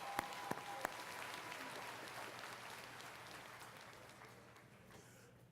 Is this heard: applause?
yes